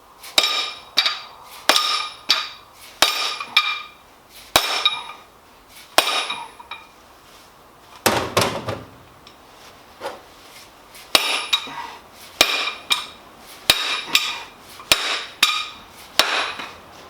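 Sharp metallic hammer strikes ring out while fitting a part onto a Tremec 3650 transmission, in quick bursts of two to four blows separated by short pauses, close and fairly loud with no talking.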